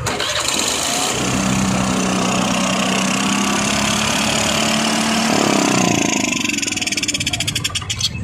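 A Suzuki Avenis BS6 scooter with a starting fault cranks and fires without throttle, its engine catching and settling into a loud, steady idle that carries on to the end.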